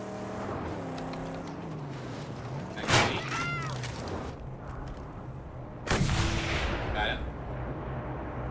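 Gunfire blasts from the Mad Max video game cut through a steady vehicle engine drone, with a sharp loud shot near the three-second mark and another burst around six seconds, followed by ringing debris.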